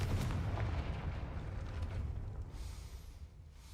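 A Confringo spell explosion from the video game Hogwarts Legacy bursts in a deep, rumbling boom, a single blast that decays into a short rolling tail with no speech.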